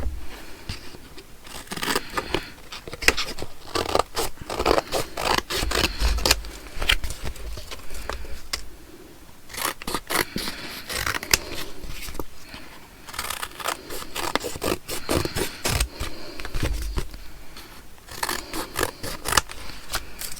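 Scissors trim paper for handmade ephemera, snipping close and crisp in quick repeated cuts with brief pauses between runs and no talking.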